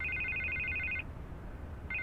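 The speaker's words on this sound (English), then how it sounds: "I can't get the phone to stop ringing" Telephone ringing in Batman The Telltale Series, a quiet trilling electronic ring lasting about a second, a pause, then the next ring starting.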